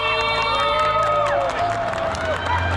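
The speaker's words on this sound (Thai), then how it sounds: "ขอเสียงปรบมือให้คนนี้" Crowd at a Thai/Lao stage event cheering and clapping, a loud continuous roar with shouts and whoops layered over steady background music throughout.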